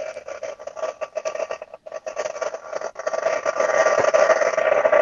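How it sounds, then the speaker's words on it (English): Heat gun blowing over ink on gloss card, a steady whirring hiss that briefly cuts out twice and then runs louder and constant near the end. "we're just going to go over that slightly with the heat gun just to make sure that's really dry"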